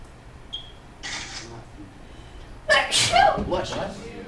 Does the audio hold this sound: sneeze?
yes